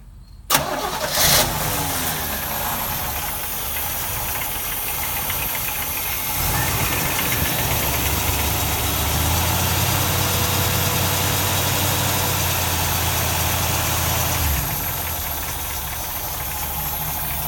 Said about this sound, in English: I will start the engine now.